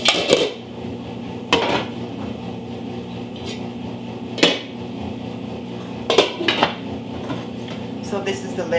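Pots, pans and lids from a Curtis Stone cookware set clatter and clank while being unboxed and tossed about, with several sharp metallic knocks spread among quieter rummaging and faint background murmur.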